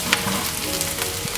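Rice sizzles and fries in olive oil and butter with vegetables for risotto, a close, steady crackling hiss with light stirring.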